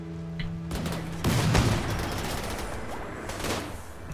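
Gunfire in the modded Rimworld video game: a burst of rapid shots erupts after a brief tone, followed by sustained crackling fire and scattered loud reports.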